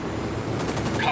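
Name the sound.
gunfire in the video game Ghost Recon Wildlands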